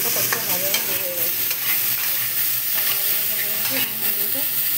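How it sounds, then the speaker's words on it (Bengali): Eggplant fries in a pan with a loud, close, crackling sizzle, punctuated by frequent stirring scrapes and spatula knocks throughout. "এবার আমি বেগুনটা একটু ভাজা ভাজা করে নেবো।"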